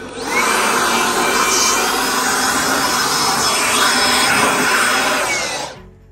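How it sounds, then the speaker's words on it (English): A small blower clears sawdust in a woodworking shop while building a herringbone dining table, giving a loud, steady broadband rush that holds for about five seconds and then cuts off. "So keep a little blower handy."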